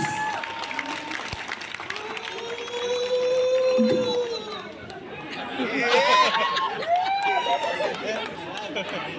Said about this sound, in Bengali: জোরে হাততালি for all musicians